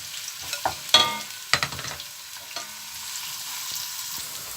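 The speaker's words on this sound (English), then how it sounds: "We're doing the frying of the onions now." A soft, continuous sizzle of onions frying in a pan, broken by a few clanks and scrapes of a utensil stirring early on.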